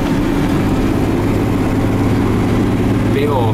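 A Jaguar Mark X 420G saloon's 4.2-litre straight-six engine drones steadily and loudly from inside the car on a test drive, a continuous low rumble with road noise.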